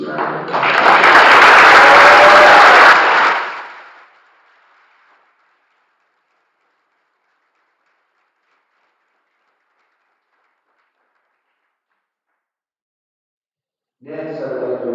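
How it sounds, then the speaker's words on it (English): A graduation audience applauds a group of graduating students at a 2021 high school ceremony, a loud, full burst of clapping lasting about three seconds that fades into a long silence before a voice resumes. "Please give these students a round of applause."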